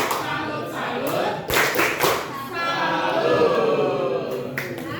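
A high school class in Bekasi performs the 'tepuk salut' clapping chant, with sharp rhythmic group claps and thumps mixed with chanting voices in a reverberant classroom.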